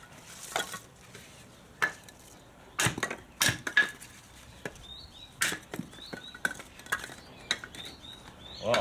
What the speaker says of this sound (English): Oh, I love it when the wood cuts all right.